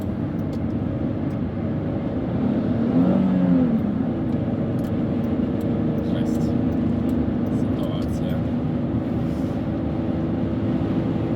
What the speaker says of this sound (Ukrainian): машина трохи не хоче їхати як треба.